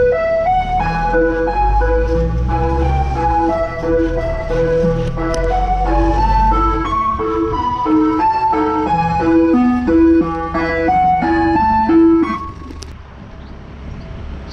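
An ice cream van plays its tinkling chime melody on repeat while driving its rounds, loud and nearby, over low engine rumble that fades out partway through.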